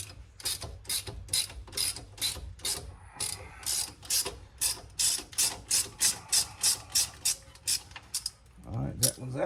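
Socket ratchet backing out a brake bolt on a 2000–2005 Ford Taurus/Sable front brake job: a long run of rapid, evenly spaced clicks close up, pausing briefly, then continuing with a few metallic clunks at the end.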